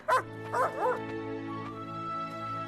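A dog in a colonial-era animated story barks three times in quick, close succession, over a steady background music drone.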